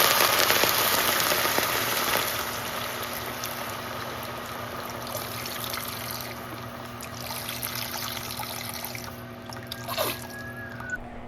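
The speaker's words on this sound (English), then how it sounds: "I'm going to add vegetable broth." Vegetable broth pours into a soup pot over browned onion and garlic, making a broad, steady rushing hiss that holds loud throughout with only slight changes and no talk.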